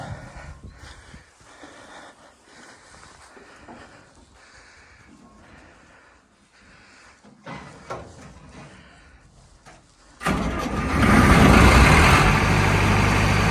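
A Claas Protector engine starts up. Faint knocks and shuffling are followed by a sudden loud, close burst of engine noise about ten seconds in, which holds as a steady roar.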